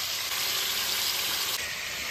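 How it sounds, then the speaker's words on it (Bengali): Ingredients lightly frying in a pan for chicken curry, giving a steady, close, bright sizzle and hiss that runs without a break and with no talking. "ওটা একটু ভেজে নেবো ভালো করে, মানে খুব বেশি নয়, হালকা ভেজে নেবো"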